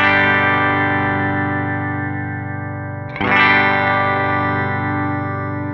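An electric guitar chord runs through a Line 6 Helix compressor set to a faster attack. A long sustained distorted chord fades slowly, then a fresh strum hits with a sharp attack and rings on steadily.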